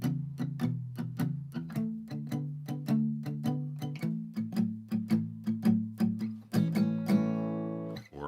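Guitar playing the closing four bars of an easy blues shuffle, a steady chugging rhythm of picked low notes that resolves onto a ringing final chord, close and alone without talk.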